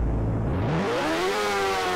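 Close, loud engine revving in a driving video game, the rising whine of a motorcycle climbing in pitch and sustaining a high, buzzing roar.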